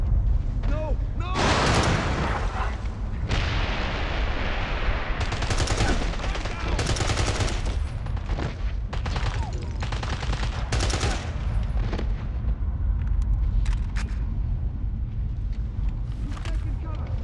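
Gunfire in the PC game James Bond 007: Blood Stone, with dense, loud bursts of automatic and single shots almost without break, while voices shout over the battle.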